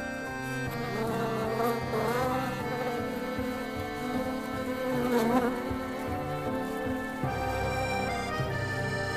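Several male wasps buzzing around an orchid, a continuous close droning hum with pitch swells as they circle and approach, loud and steady with no talking.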